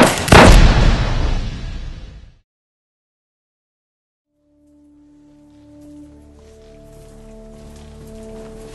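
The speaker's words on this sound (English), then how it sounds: "10 churches will blow up." A staged explosion effect in a church youth-conference skit: one sudden loud boom that rumbles and fades over about two seconds, followed by silence and then a low sustained tonal swell.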